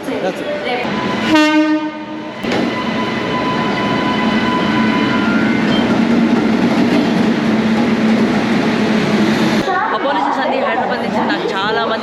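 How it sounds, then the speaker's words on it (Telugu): A passenger train pulling into an Indian railway station on the Hyderabad–Vijayawada route, its horn sounding loudly near the start, then a continuous heavy rumble of rolling wagons under crowd chatter and voices on the platform. "వస్తుందండి మన ట్రైన్"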